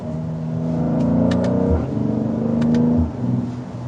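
A Mercedes-Benz GLC 43 AMG engine revs loud and close under acceleration, its droning pitch climbing and then dropping at each of two gear shifts before building again.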